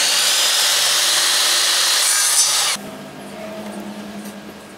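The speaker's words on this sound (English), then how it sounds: "I've got this branch that I'm gonna cut down into random lengths and glue them in that fire shed" A wooden branch being sawn into short lengths for a barn birdhouse: steady, loud rasping strokes for nearly three seconds, then a quieter, softer scraping continues close by.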